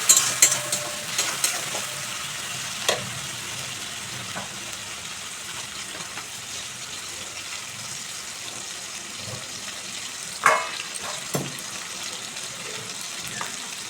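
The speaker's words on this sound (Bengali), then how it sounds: "একটু জল দিয়ে মশলাটা ভালো করে কষিয়ে নেব" Spice paste cooks in a pan with a little added water, a low steady simmering sizzle broken by occasional scrapes and clinks of stirring, with splashy spikes at the start and midway.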